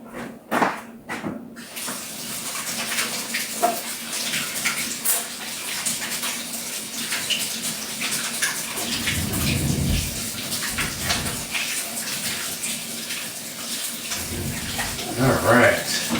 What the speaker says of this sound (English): Let me rinse off my hands real quick.